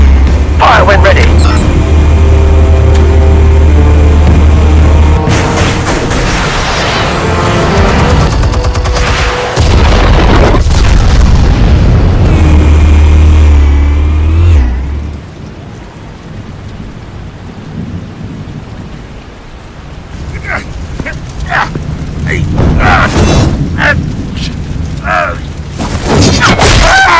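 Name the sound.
explosions in Batman: The Telltale Series video game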